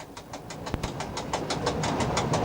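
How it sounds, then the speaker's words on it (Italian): A freight train crossing on the Gorizia–Nova Gorica–Ajdovščina line, heard from the cab: a rapid, even clickety-clack of wheels over rail joints, fairly loud and close, repeating steadily throughout with no talk. "E qui abbiamo ora un incrocio con un treno merci."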